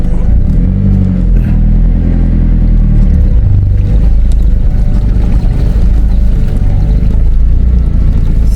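A car fords a river crossing on the Crooked River Track, with a loud, steady engine rumble and rushing, churning water close by, continuous throughout.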